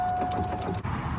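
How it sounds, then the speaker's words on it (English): Power window motor whirring inside the door of a 1999–2006 Chevy Silverado during a window regulator replacement, a brief steady electric hum heard up close with a short dip near the end. "Go ahead, plug this in, make sure, oh, the lock works."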